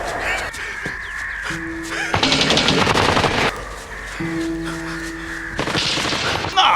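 Gunfire sound effect of Nazi soldiers shooting: two loud, rattling bursts of rapid automatic fire, each lasting over a second, separated by a quieter stretch with a low sustained tone.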